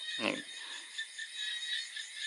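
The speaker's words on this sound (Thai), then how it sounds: "นั่งฟังเสียง เสียงกบเสียงเขียดร้องไป" Frogs croaking at night outside a rural hut, a dense high chorus of steady trilling and chirping calls, with one brief louder croak near the start.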